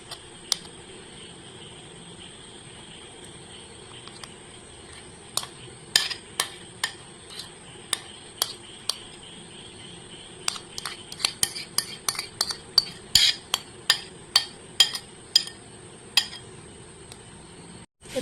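A metal spoon scrapes and taps against bowls as batter made from puffed rice and water is spooned into two oiled bowls, giving irregular sharp clinks that grow more frequent toward the end, close and clear over a quiet background.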